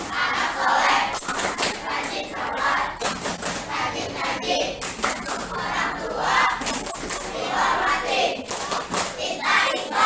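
A group of schoolchildren doing the anak soleh clapping chant, with rhythmic hand claps under loud, energetic chanting voices throughout, close and busy.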